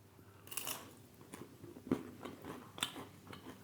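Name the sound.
crunching Tesco Finest cheese hand cooked crisps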